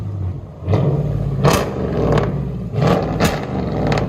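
Dodge Durango R/T with a 5.7-liter HEMI V8 and its mufflers and resonators cut off, idling with a low rumble and letting out several sharp exhaust crackles and pops, loud and close, with no talking.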